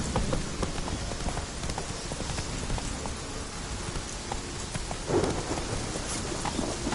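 Roach, a horse in The Witcher 3: Wild Hunt, gallops with a steady clip-clop of hooves beneath a constant wash of rain and stormy weather, while a brief louder thump lands midway.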